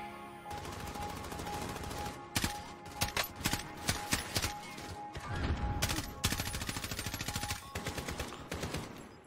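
Rapid bursts of automatic gunfire and single shots crack out in a Warzone firefight, loud and close, with dense volleys and sharp isolated reports over a continuous background din.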